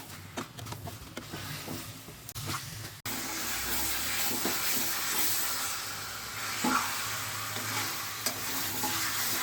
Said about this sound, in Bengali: এবার আমি ভেজে রাখা চিকেন একটা একটা করে দিয়ে দেবো এর মধ্যে, দিয়ে 5 মিনিট মতো কষে নেব ওই মশলার সাথে চিকেনটা